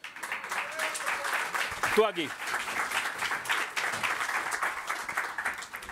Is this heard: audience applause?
yes